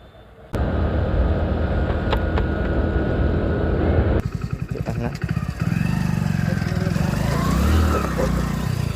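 A loaded motorcycle starts up and rumbles steadily close by, then revs and pulls away with the engine droning on, ready for an 80 km village ride.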